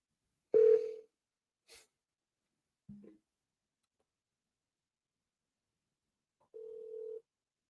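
A telephone dials a call: a few short tones with gaps, then a longer steady tone, sounding close and clear against near silence.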